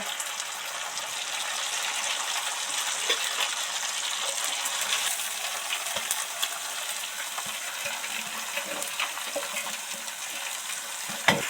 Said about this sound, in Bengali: নেড়ে চেড়ে তেলের সাথে দু চার মিনিট ভাজতে থাকবো মধ্যে এই বাঁধাকপি টুকরোগুলো সব কটা দিয়ে দেব